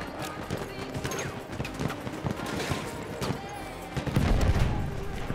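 Gunfire in the game Battlefield 1 cracks out in scattered, irregular bursts of shots and impacts, moderately loud amid battle noise, with a heavier rumble near the end.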